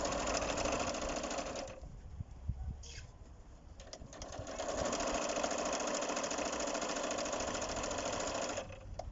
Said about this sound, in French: on va venir piquer ici pour faire une piqûre de maintien